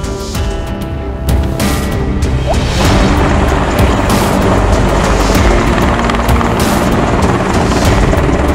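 A Boeing AH-64 Apache attack helicopter flies nearby, its loud, steady rotor and engine roar building after a brief quieter start and holding continuously.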